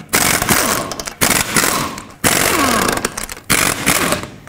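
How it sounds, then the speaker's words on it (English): Impact-type power tool with a 21 mm socket spinning off the wheel lug nuts of a 1997–2003 Ford F-150: four loud, close rattling bursts, each roughly a second long, separated by brief pauses. "21 millimeter socket, take off all five of your lug nuts."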